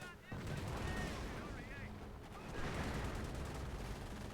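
Sustained machine gun fire in Company of Heroes, a dense continuous crackle of rapid shots in two long bursts with a brief lull between, loud and close, over a faint voice.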